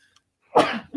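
A single sharp, explosive sneeze bursts out nearby after a moment of near silence, followed by a short breathy sound.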